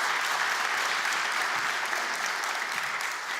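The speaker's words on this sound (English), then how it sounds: "a huge round of applause, please, for Thomas" Sustained audience applause fills a conference hall after a talk on agentic marketing analytics, a dense, even roar of many hands clapping at steady loudness throughout before tapering slightly at the end.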